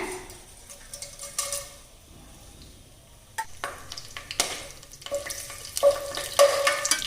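Cinnamon, cloves, cardamom and bay leaf crackle and sizzle in hot ghee, quiet at first, then louder with sharp pops and scraping stirs near the end.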